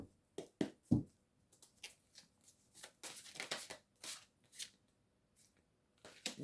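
Tarot cards from a 'belles créatures' deck being shuffled by hand, heard as a string of short, close papery riffles and rustles in separate bursts with brief pauses between them.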